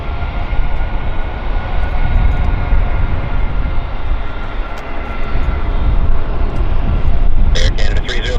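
An American Airlines airliner at Vancouver Airport, a continuous loud engine rumble and rushing noise throughout, with a brief clatter near the end.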